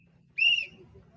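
A voice imitates a lifeguard whistle with one brief, shrill, piercing squeal that cuts off quickly over a low background hum.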